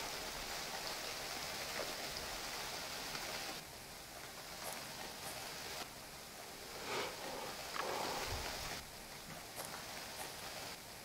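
Steady rain hissing down in the survival game UnReal World, a constant broadband wash with faint patter, alone and unbroken throughout.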